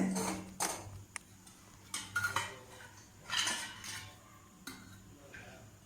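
A metal pan clanks onto a stove amid several scattered knocks and clinks of cookware, close but fairly quiet, with brief pauses between the bumps.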